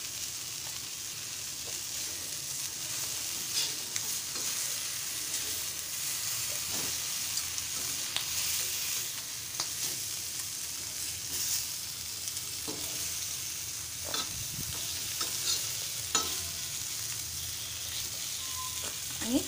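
Fish fries Malvani style in oil in a pan, giving a steady, close sizzle and hiss throughout with occasional soft pops and stirring scrapes.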